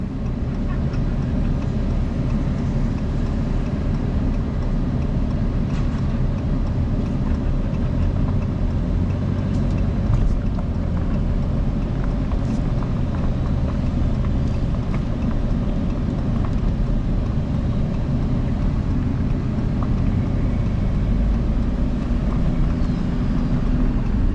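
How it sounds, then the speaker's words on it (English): A manure boost pump engine runs steadily on a farm pumping operation, giving a constant low mechanical drone at moderate volume with no clear change or talk over it. "they put boost pumps in like that, and then they can keep going a distance"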